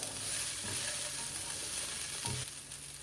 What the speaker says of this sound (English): go ahead and add the soaked sabudana. And mix these all well.